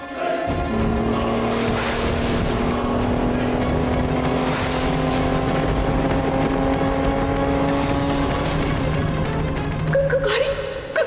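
A car with failing brakes keeps rolling and revving, its engine tone rising and holding loud and close throughout, with brief swells like passing motion and a rattling shift near the end.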